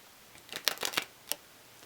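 Playing cards snap and riffle in a few quick crisp bursts during swing cuts, close and faint, then a single sharper flick before quiet.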